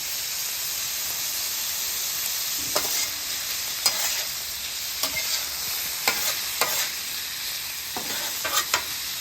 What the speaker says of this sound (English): Melt that garlic, tenderize those onions.